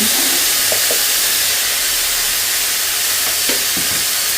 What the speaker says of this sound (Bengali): তেলটা গরম হয়ে গেছে এখন দিয়ে দেব মাশরুমগুলোকে এটাকে নেড়ে চেড়ে ভেজে নেব